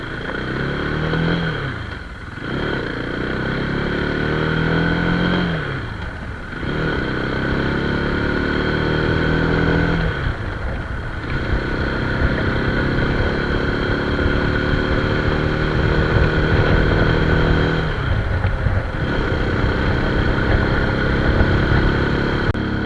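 A motorcycle engine drones steadily up close on a mountain road during break-in riding, its pitch rising and falling as it revs through gear changes, with brief dips between shifts.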